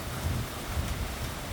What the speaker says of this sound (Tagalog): The wind blowing. It's too hard.